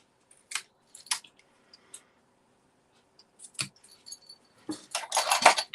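Vellum paper is trimmed in a quiet room: a few isolated crisp snips and clicks are spaced apart, followed by a louder burst of dry papery cutting and rustling near the end.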